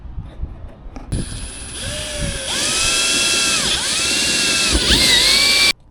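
Power tool cutting a large square opening through the fiberglass body of a Volkswagen Vanagon campervan, a loud sustained whine that starts abruptly, rises and dips in pitch as the blade loads and frees, then stops sharply.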